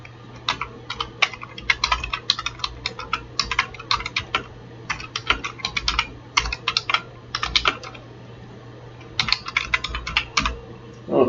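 Fingers clatter across a computer keyboard in quick bursts of clicks, pausing briefly between runs, close and fairly loud with no talking.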